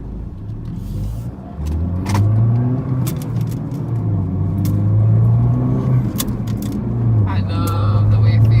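A Mini R56 fitted with a new sword-style gear shifter drives along, its engine note rising and dropping through several gear changes over a steady road rumble, with faint clicks and rattles inside the cabin.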